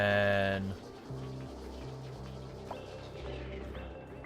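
End-of-day signal in Oxygen Not Included, a short bright chime-like tone opening the clip before fading, followed by low stepped game music and ambience.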